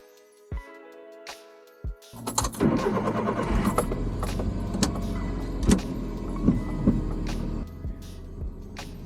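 A Suzuki Carry DA63T kei truck starts up and drives over a rocky riverbed in two-wheel drive, engine idling then a steady running drone with occasional clunks and knocks from the stony ground.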